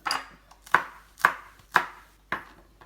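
Onions are chopped on a board: five crisp, evenly spaced knife strikes about half a second apart, close and clear with no talk.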